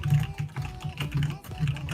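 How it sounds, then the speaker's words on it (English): Computer keyboard typing during an art session: quick, uneven clatter of key clicks in short bursts, close and fairly soft, with a low hum beneath. "So yeah, that is a keyboard."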